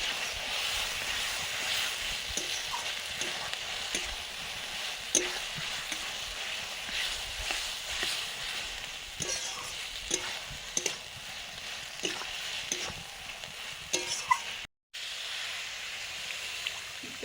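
New potatoes, boiled and then fried, sizzle steadily in a pan, with regular scraping knocks of a stirring spoon and a brief dropout near the end, no talking.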